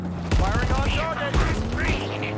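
Gunfire from Halo Infinite's campaign at FOB Charlie rings out in two sharp bursts, each followed by rattling decay, with in-game voices talking over the shooting.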